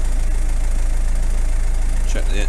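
A farm engine idles steadily with a regular low chugging pulse, close and loud, for a few seconds after an oil and filter service, with a brief burst of voice near the end.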